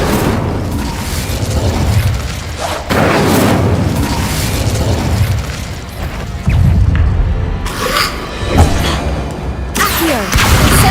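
Repeated Incendio fire-spell blasts from a Harry Potter video game, loud booming bursts arriving every few seconds with crackling fiery roar between them and no talk.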